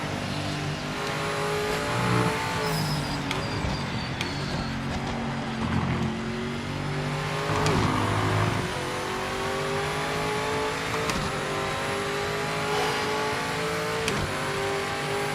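A race car engine in the Project Motor Racing game at the Interlagos track drones loudly and continuously, with the pitch rising and falling through gear changes and revs, and no talking.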